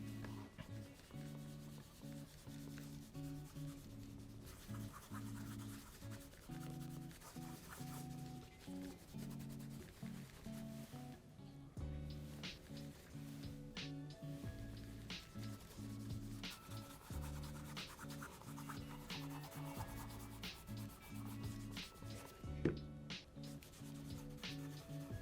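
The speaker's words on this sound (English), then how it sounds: "We'll let this dry while I buff off the first coat on the left pair." Steady rubbing and buffing of cream polish off brown pig skin Oxford shoes, a continuous close brushing texture with faint background hum and no voices.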